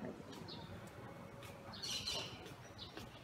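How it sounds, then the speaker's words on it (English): Parrots in a city park give harsh squawks and short chirps, several calls scattered across the moment with one loud burst in the middle, over faint outdoor ambience. "There's someone that put parrots here. Oh, that's so noisy."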